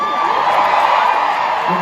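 Crowd at a concert in Las Vegas cheering and shouting in a loud, continuous roar close around the listener, with voices mixed into the din.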